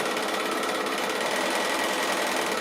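A sewing machine chain-pieces quilt star blocks with regular needle and thread, running in one fast continuous stitching whir, close and steady, with no talking.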